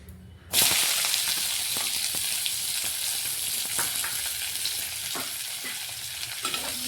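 Onions frying in oil in a kadai in an Odia home kitchen, a steady loud sizzle that starts abruptly and carries on, with occasional soft scrapes and taps of a stirring utensil.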